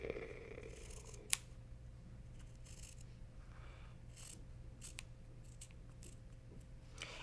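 Fabric scissors trim a quarter inch off a stitched fabric edge in a quiet room, giving soft, repeated snipping and sliding blade sounds, with one sharp click early on.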